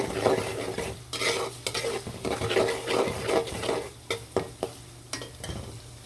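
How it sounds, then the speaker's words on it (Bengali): Onions fry in oil in a pot as a desi chicken curry gets going, sizzling steadily while a spoon scrapes and knocks against the pan in uneven strokes, ending with a few sharper clatters. "পেঁয়াজগুলো তেলে দিয়ে দিলাম"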